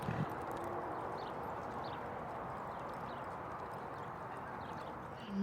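Horses, including half-draft blue roans, walking in a Montana auction ring, hooves clip-clopping faintly on a soft surface under a steady background hum, with a few distant indistinct sounds.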